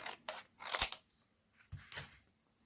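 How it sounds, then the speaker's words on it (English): Scissors trimming a piece of card, a few quick close snips in two short bursts, faint and alone. "Just going to trim that bottom piece of card off."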